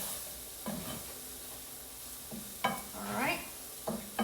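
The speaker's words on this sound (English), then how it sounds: "And then you're just gonna stir it around, toss to coat." Sausage and flour being stirred in a frying pan while biscuits and sausage gravy are made, with soft scraping strokes in short bursts over a faint sizzle and a brief word of speech near the start.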